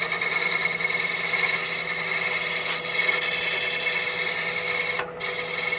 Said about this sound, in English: just going to shear scrape it a little bit